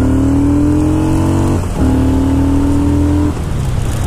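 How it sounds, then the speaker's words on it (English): Green Yamaha cruiser motorcycle on a test ride, a loud, close engine pulling hard with rising pitch, a brief dip as it shifts gears, then climbing again. "It pulls just like any cruiser bike."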